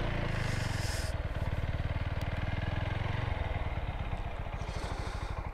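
A TVS Apache RTR 4V ABS motorcycle runs nearby, its engine thumping in a steady, rapid rhythm with a slight rev change partway through.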